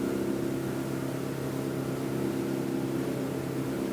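Regal 36 Grande Coupe cruiser boat running hard through waves, its engines giving a steady, loud low drone with rushing water noise and no break throughout.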